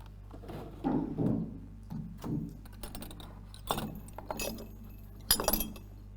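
A glass Tesla-style healing device with a glass spiral inside is set down, giving a few light clinks and taps spread over several seconds against a quiet room.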